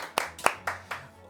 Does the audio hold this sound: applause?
yes